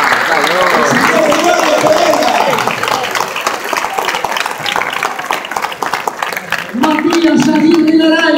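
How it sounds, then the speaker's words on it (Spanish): Steady applause and clapping from an audience greeting a player introduction at a legends event, sustained for several seconds beneath an announcer's voice. "Señores, fuerte el aplauso para un campeón de América."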